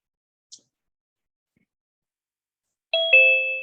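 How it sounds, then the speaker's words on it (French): A doorbell chime rings once, a clear two-tone ding-dong, loud and close, following a tiny faint click in otherwise silent surroundings. "On a des sonnettes d'entrée qui sont différentes selon les personnes qui se connectent."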